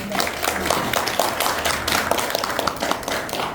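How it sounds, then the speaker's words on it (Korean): Applause from an audience at a book launch event fills the room, a dense steady patter of many hands clapping at close range throughout, with faint voices mixed in. "뜨거운 박수 부탁드립니다"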